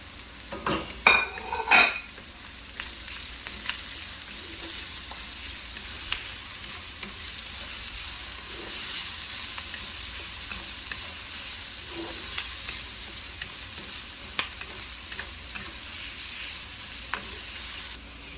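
Carrots and green chili stir-frying in a pan, a steady loud sizzle running throughout with a few clinks and scrapes of utensil against the pan near the start, no talk.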